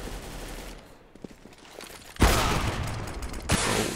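Counter-Strike match on de_cache: quiet stretch with a few faint clicks and footsteps, then a loud sudden burst of rifle gunfire that continues densely, with a second sharp volley near the end.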